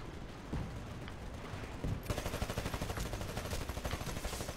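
Gunfire in Titanfall during a fight against a Titan, with scattered shots first and then a sustained rapid automatic burst that grows louder, with no talk over it.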